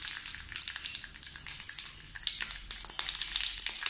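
Mustard seeds sizzle and crackle in hot oil, a dense, steady spatter of tiny pops heard close and alone.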